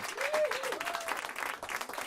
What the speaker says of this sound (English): Give them a big round of applause before they start the last song.